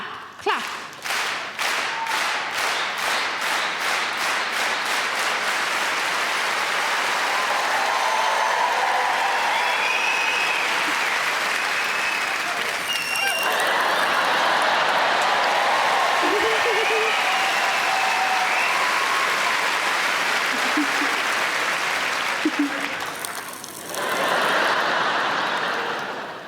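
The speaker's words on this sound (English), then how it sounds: "can we do clap, clap, clap?" Comedy show audience clapping in a loud rhythmic clap-clap-clap pattern at first, then swelling into sustained applause with cheers and crowd noise, briefly dipping and rising again near the end.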